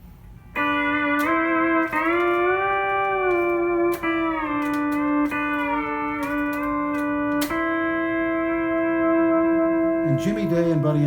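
Pedal steel guitar moving from a 1 to a 4 chord, with smooth pitch bends as pedals engage and sustained ringing notes between new picked attacks. Close and steady, with a brief noisy scrape at the end.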